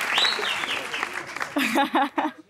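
Studio audience applause on the talk show Had Kar Di welcoming a guest, a burst of clapping that fades as voices take over and people start speaking.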